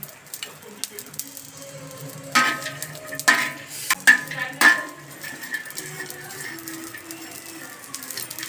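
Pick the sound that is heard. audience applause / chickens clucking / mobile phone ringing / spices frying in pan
spices frying in pan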